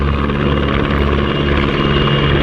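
Czech PZL W-3 Sokol helicopter flying at an air display at RIAT, a loud, steady rotor and turbine roar with constant thrumming blade chop, close and continuous.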